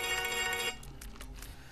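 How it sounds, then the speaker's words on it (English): A phone ringtone rings with a steady electronic melody, then cuts off, leaving quieter game sound effects from The Binding of Isaac: Rebirth with sharp taps. "Get a phone call right in the middle of this."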